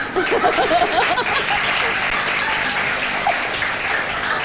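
A studio audience of women claps on a Pakistani morning talk show, continuous close applause with scattered chuckles, while people talk over it.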